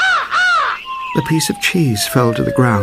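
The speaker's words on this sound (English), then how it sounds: "As the crow opened his beak and started to sing," A crow caws in a storybook fable, with harsh arched calls at the start, followed by a long falling tone and a speaking voice.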